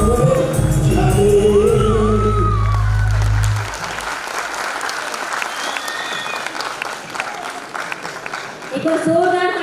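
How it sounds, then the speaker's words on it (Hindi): A live audience at a stage entertainment show applauds and cheers for a performer, loud clapping mixed with whoops and shouts that follows music and continues at full strength, with a voice speaking over it near the end. "एक और जोरदार तालियां द्विवेदी साहब के लिए।"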